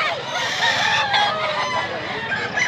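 Many chickens cluck and a rooster crows amid a dense, busy barnyard din in Mantalungon, Cebu, loud and continuous throughout.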